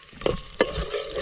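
Garlic and green chillies frying in hot oil in a pan, with two short bursts of stirring and a steady low sizzle between, close by and without voices.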